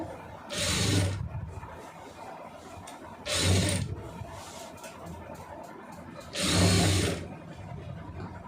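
A sewing machine stitches a boat neck in fabric, three distinct bursts of rapid mechanical whirring, each about a second long, separated by quieter pauses with faint handling noise.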